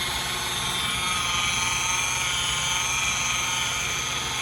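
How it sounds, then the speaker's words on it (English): Mirka polisher spinning a polishing pad over a scratched screen surface, a steady, close, loud whirring hum with an even high whine and no pauses. "this pad, the idea is that it will do the polishing and produce that factory finish"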